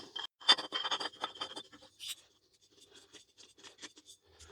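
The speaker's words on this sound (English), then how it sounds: "to install the bottle, all we do is screw it into the front here" A gas bottle is screwed into the front of a Theoben Rapid air rifle, making a burst of close, dense scraping and rasping threads at the start, then lighter intermittent ticks and scratches as it seats.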